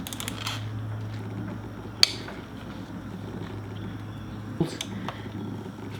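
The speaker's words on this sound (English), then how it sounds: "Loosen this bolt here." Wrench loosening a fork bolt on a 1985 Honda Shadow motorcycle, with two sharp metallic clicks standing out over a low steady hum and faint mechanical rattles, no voices.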